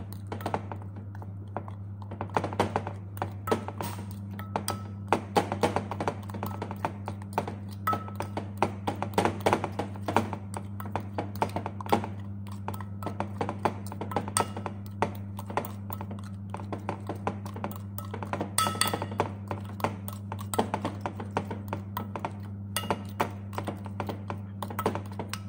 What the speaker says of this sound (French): maintenant que j'ai tous mes ingrédients, je vais bien mélanger